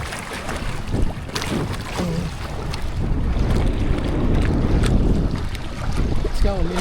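Strong wind roars across a boat on open water, a steady buffeting rush with waves underneath and brief voices breaking through.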